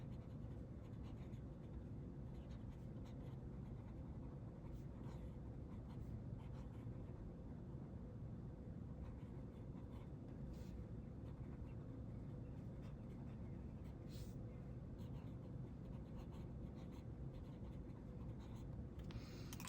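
A TWSBI RG II fountain pen writes with shimmer rose gold ink on paper, giving a faint, steady scratchy nib sound close up against a low background hum, with no speech.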